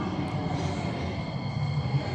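A Singapore MRT train arrives at a station, giving a steady low rumble of wheels and carriages with a faint whine above it, close and continuous.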